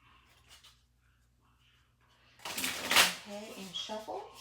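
Quiet at first, then a burst of playing cards being shuffled close up, riffling briefly while a voice talks over it.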